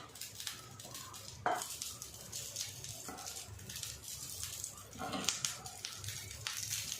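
Thecha rice with salt being stir-fried in a pan, scraping and clinking of the utensil against the pan in scattered strokes over a steady low background, with a few sharper knocks.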